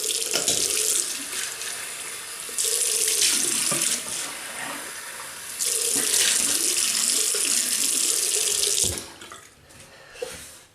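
A tap runs into a sink as a man rinses his face after a classic Arko soap wet shave, the water gushing loudly in two long bursts, then trickling and splashing as it stops.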